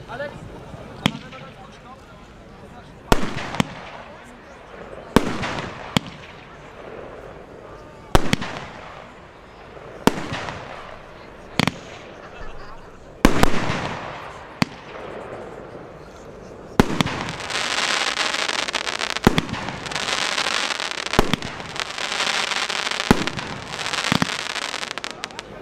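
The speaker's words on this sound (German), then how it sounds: "folgt die Batterie X-Emotion, die schießt gerade und gefächert." An X-Emotion fireworks battery fires straight and fanned shots, a sequence of sharp, loud bangs at irregular intervals, followed by a denser crackling stretch of rapid bursts, with people talking between shots.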